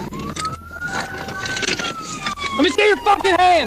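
A police car siren wails loudly during a high-speed traffic stop after a PIT maneuver into a concrete barrier, its rising and falling tone continuous under officers shouting commands close by.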